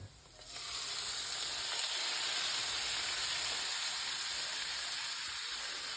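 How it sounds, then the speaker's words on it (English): Sauce poured into a hot pan of sizzling spices bursts into a loud, steady sizzle and hiss that rises sharply after a quiet start and holds strong, close up with no talking. "cook for just 30 seconds to a minute with the spices in there. And then I'm going to add my sauce."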